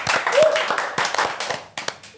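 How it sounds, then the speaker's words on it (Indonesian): A studio audience claps for Caimin in a burst of scattered hand claps lasting about two seconds, fairly close and lively, with a brief voice over the top. "Tepuk tangan dulu untuk Caimin, tepuk tangan dulu"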